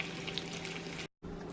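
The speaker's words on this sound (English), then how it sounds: "I just wanted to let y'all hear the sizzling." Food sizzling inside an oven-shaped air fryer while cooking: a steady, close hiss of frying fat that runs without a break, then cuts out for a moment before it resumes.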